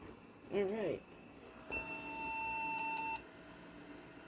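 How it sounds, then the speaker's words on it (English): A short chirp is followed by a long, steady electronic beep tone lasting over a second, fairly faint against a low background hum: a computer's video card error beep code. "Video beeps. Why?"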